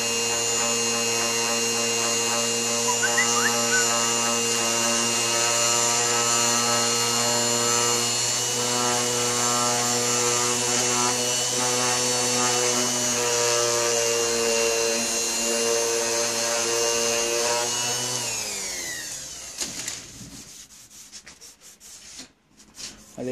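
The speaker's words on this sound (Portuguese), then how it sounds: "Nela eu estou usando uma lixa 400 também" Sanding a 3D print by hand with 400-grit sandpaper, a steady continuous rubbing with a strong tonal hum running beneath it for most of the stretch, then stopping near the end with scattered light handling sounds.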